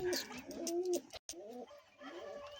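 Several pigeons from a fancy breeding flock coo in soft, repeated rolling calls, close by and overlapping, with a brief gap of near silence midway before the cooing resumes.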